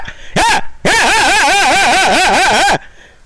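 A man imitates a big dog barking at someone, voicing a short bark followed by a long, wavering, growling bark-howl, loud and close.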